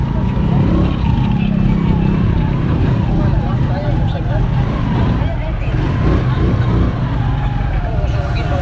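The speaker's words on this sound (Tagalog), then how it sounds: "Traffic dito sentro." Busy downtown street traffic with cars and trucks, a steady loud rumble of engines and road noise with fluctuating horn-like tones, continuous throughout with background voices mixed in.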